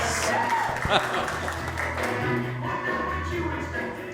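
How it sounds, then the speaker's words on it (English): Applause from a stand-up comedy audience, a sustained patter of clapping at moderate volume with a few thumps, and voices mixed in throughout. "Thanks, you guys, for the enthusiastic applause."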